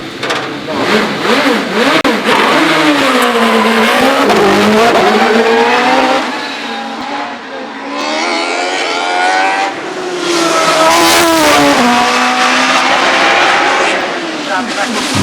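A Gould NME V8 hillclimb race car howls up the course at Shelsley Walsh during a British Speed Hillclimb Championship run, its loud engine rising and dropping through gear changes with brief tyre squeal, and a commentator talks over it.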